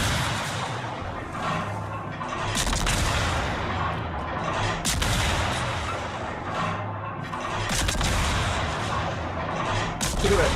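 Rapid salvos of naval gunfire from warships firing armor-piercing shells in World of Warships, repeated sharp booms and crackling bursts over a continuous low rumble, loud and dense.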